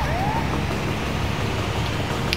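A synthetic ambulance siren in GTA V Online wails briefly over a steady hum of game engine noise, with a faint rising tone early and a short bright blip near the end.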